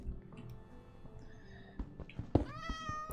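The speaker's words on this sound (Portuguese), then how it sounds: "Tem um felino miando por aí." A cat in Minecraft meows a few times among soft background clatter, the last meow long and clear, rising and falling in pitch.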